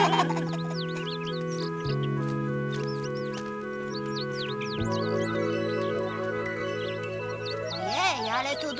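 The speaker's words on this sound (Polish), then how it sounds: "Ojej, ale tu dużo ptaków." Many cartoon birds chirp and twitter in a raspberry clearing, with quick high calls scattered over sustained background music that swell into a louder flurry near the end.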